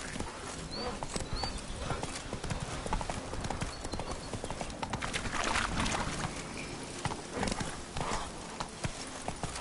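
A horse named Roach gallops in a PS4 video game, with continuous rapid hoofbeats drumming close and steady over the game's ambient soundscape. A faint whinny is heard along the way.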